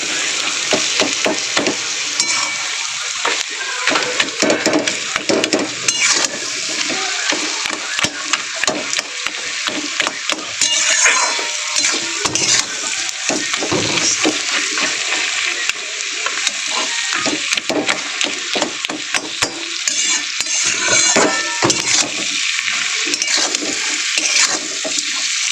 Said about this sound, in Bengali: আমি কিন্তু এটা পুরো লাল লাল করে ভাজা করব।